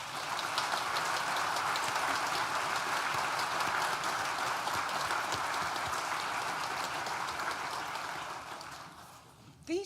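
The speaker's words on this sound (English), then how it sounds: "please join me in thanking them with a very well-deserved round of applause" Audience at a university graduation ceremony for an art and design school gives a sustained round of applause, a steady, fairly soft wash of many hands clapping that fades out near the end.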